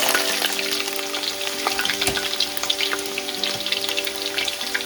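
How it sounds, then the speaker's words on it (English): Sliced onion sizzling in hot oil for chicken biryani, a steady, dense crackle and spatter that stays close and loud throughout. "You're gonna go ahead and add the sliced onion to the oil."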